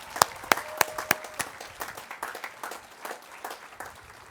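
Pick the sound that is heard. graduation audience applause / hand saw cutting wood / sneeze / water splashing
graduation audience applause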